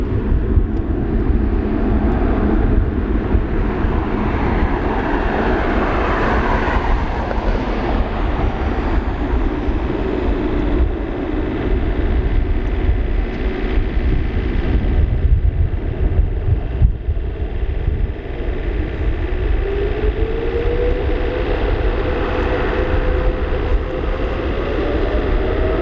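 A China Airlines Boeing 777-300ER jet takes off from Narita airport's runway 34 left, producing a loud, continuous engine roar that holds steady with a slowly rising whine over about twenty-five seconds.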